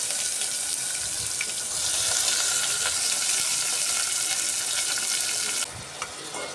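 Chopped onions hitting hot oil already crackling with curry leaves in a pan for prawn curry, a loud dense hiss of frying that holds steady, then drops off abruptly near the end.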